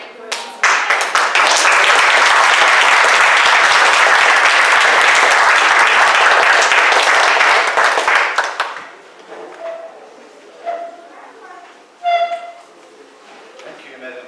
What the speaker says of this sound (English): can we just give Mandy a round of applause again for her?